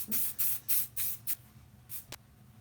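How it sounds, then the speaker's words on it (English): Monate Refinish Control hairspray misted onto hair being styled into beach waves with a curling iron, heard as a run of short close hissing bursts, about six in quick succession and then a brief pause and another spray, with no talking. "what I'm going to do is I'm going to take some hairspray"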